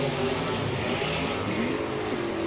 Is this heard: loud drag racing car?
yes